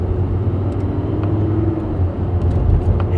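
A Lamborghini SuperTrofeo Stradale LP 570-4 with a naturally aspirated V10 rumbles loud and close on a night drive, a deep continuous engine drone with slight rises in intensity.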